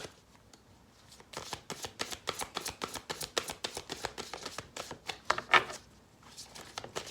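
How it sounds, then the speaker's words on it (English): A large oracle card deck is riffled and shuffled by small hands in a rapid series of crisp, close flapping bursts that rise and fall over several seconds. "This deck is huge and my hands are so small, it's hard to shuffle it."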